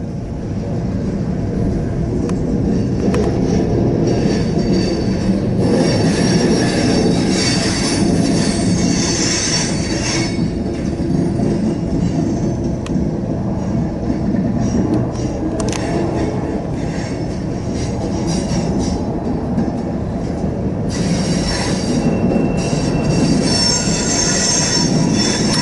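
A Norfolk Southern manifest freight train rolls past in Elkhart, Indiana with a loud, continuous rumble of railcars and high, wavering wheel squeal rising and fading throughout.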